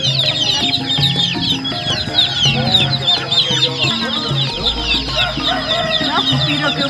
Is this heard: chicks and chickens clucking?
yes